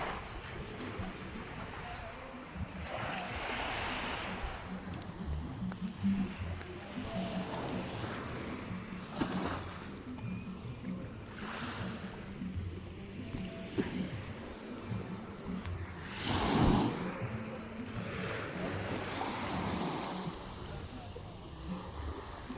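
Sea waves wash and roll steadily with wind buffeting the microphone, while people talk faintly nearby.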